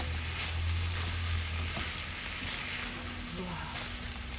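Peppered shrimp frying in a pan with parsley, a steady dense sizzle and crackle running throughout at moderate level with no pauses.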